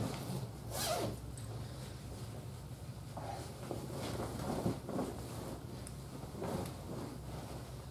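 A sleeping bag zipper is pulled in several close, scratchy strokes spread across the stretch, with light wind noise behind.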